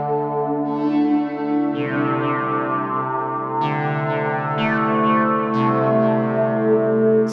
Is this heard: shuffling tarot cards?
no